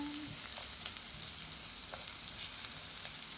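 Onion sizzles and fries in a hot pan, a steady close hiss with faint crackles throughout and no talking.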